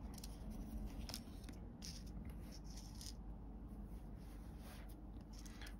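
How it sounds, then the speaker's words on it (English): Scissors cutting a small square piece of material for a miniature apartment model, quick snips and scraping close up over a steady background hiss. "I need to cut this square out."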